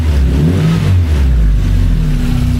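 A 1982 VW Westfalia engine revving loudly and close, with steady throttle blips rising and falling in pitch over a constant rumble, no talk.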